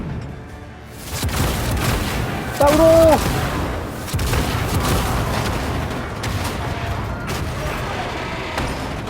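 Cannon fire in the Warhammer 40000 Rogue Trader video game, heavy booming impacts over a dense battle din, with a voice shouting a single word briefly.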